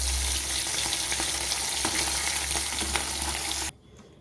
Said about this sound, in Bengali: এবারে এইভাবে আমি এপিট ওপিট করে ভালো করে ভেজে নেব